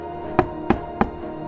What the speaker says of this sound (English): The officer knocked gently on our classroom door,